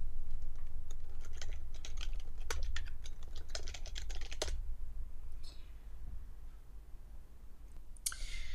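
Quick bursts of keystrokes on a computer keyboard as a password is typed in, close and fairly faint, with a pause and a final key tap near the end.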